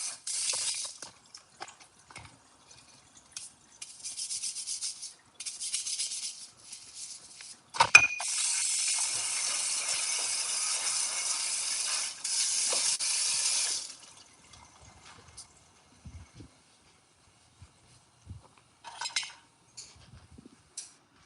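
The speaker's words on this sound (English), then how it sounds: "Let me wash off my knife real quick." A kitchen tap runs in bursts as a knife is rinsed under it, with hissing water stopping and starting, a sharp clink of metal against the sink, then quiet handling afterwards.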